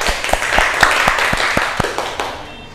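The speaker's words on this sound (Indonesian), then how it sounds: "Kita beri aplaus dulu untuk semuanya" A small classroom group gives a brief round of clapping, a dozen or so distinct claps in a loose rhythm that fades out within a few seconds.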